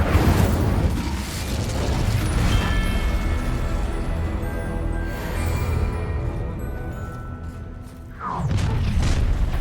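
An Incendio fire spell in Hogwarts Legacy bursts with a loud whooshing rush, then a sustained roaring, crackling tail that fades before another burst hits at the end.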